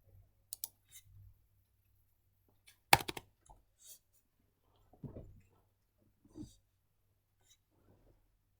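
Sparse clicks and taps on a computer keyboard, including a Ctrl+Enter press, come through as isolated sharp keystrokes separated by quiet gaps, one louder clustered hit near the middle, with faint breathing and soft handling noises between.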